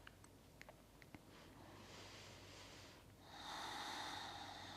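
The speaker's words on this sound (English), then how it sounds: "finding that Ujjayi breath." Yoga Ujjayi breathing drawn through the nose, with a soft throaty rasp on slow, drawn-out breaths. Faint, close, and heard alone after a few small clicks.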